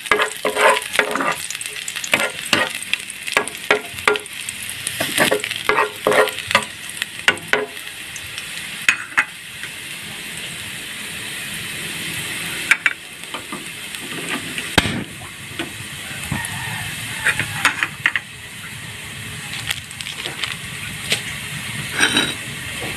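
Garlic fries in a pan with a continuous loud sizzle, punctuated by frequent sharp clacks and scrapes of a utensil stirring against the metal, close and uninterrupted by talk.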